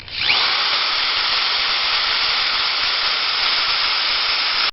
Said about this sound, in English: We're going to go ahead and drill the pilot holes in the 4x6